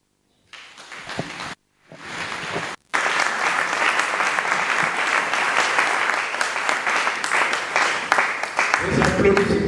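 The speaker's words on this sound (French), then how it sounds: "Les applaudissements nourris une fois de plus pour ce dispositif." After a few brief stops and starts, an audience at a public talk on a nationality law in Mbanza-Ngungu breaks into loud, sustained applause, with some voices mixed in.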